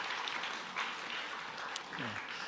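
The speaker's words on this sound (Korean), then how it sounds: "여기 계시는 우리 한 박수로 환영하겠습니다" A church congregation applauds to welcome newly registered families, a soft, even wash of many hands clapping at a distance, with a faint voice coming through near the end.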